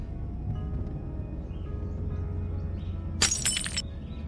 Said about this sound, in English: Oh no, the glass broke.